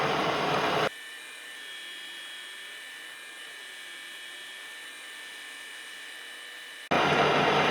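A K&T 2D rotary head mill with a 3/4 inch cutter mills a differential cover, a steady whining hum with a high tone, set between louder broadband machine noise at the start and end.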